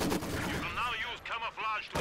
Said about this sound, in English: these guys are getting mowed down basically by the machine gun and the fire